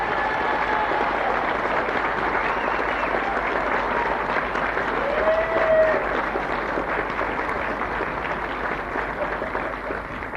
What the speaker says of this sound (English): So what about the warmest round of applause possible for them?